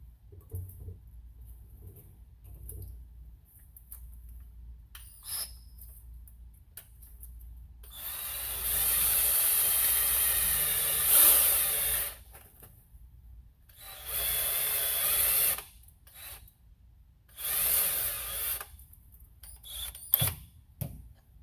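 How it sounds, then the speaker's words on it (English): Power drill boring out an oil drain plug hole for a Time-Sert thread insert repair, running in three loud sustained bursts separated by pauses, close up in a shop. "you just drill and insert until that step is flush with the face."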